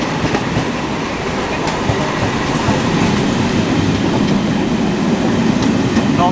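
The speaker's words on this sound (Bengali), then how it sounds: "দেখো লোকালটা আমাদেরকে ক্রস করে বেরিয়ে যাচ্ছে।" A Kolkata local train overtakes near Dum Dum station, its steady loud rumble and clattering wheels heard up close from an adjacent moving train, with a faint squeal at the end.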